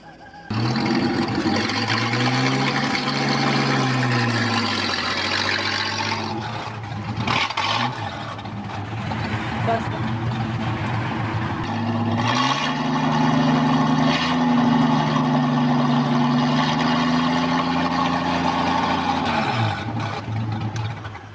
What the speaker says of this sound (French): C'est le camion pour amener la Studebaker.